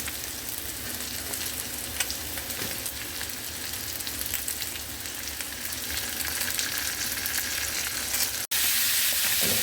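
Pork and squash for pakbet fry in a pan with a dense, continuous sizzle, stirred now and then, the hiss rising slightly louder near the end.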